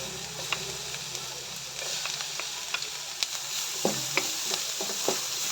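Onion and garlic sautéing in a pan, a steady close sizzle punctuated by frequent sharp spatula taps and scrapes against the pan, with a faint voice briefly in the background.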